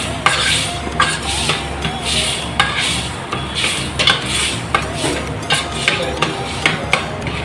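A spoon scrapes and knocks rhythmically against a pan as homemade tomato chutney is mixed with tamarind water, with regular clinks and a soft sizzle underneath.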